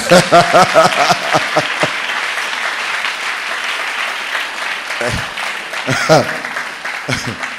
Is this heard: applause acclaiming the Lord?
yes